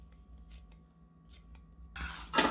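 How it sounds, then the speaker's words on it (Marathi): Fresh coriander being cut for a methi palak pakoda recipe: a few soft, brushing snips, then louder crisp cutting bursts near the end, close and alone. "त्यानंतर सांबार धुवून कापून घ्यायचा"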